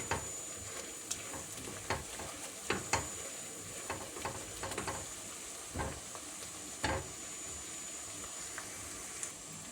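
Onions frying in a pan and stirred now and then, a quiet continuous sizzle broken by repeated sharp spoon scrapes and clicks against the pan, close up, no talk.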